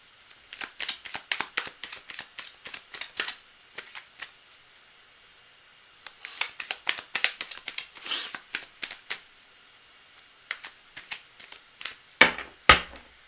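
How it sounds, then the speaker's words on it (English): Tarot cards are shuffled by hand in quick riffling bursts, a run of soft papery flicks, a pause, then another run and a few sharper snaps at the end, close and quiet with no talk. "I'm going to shuffle again because I got distracted."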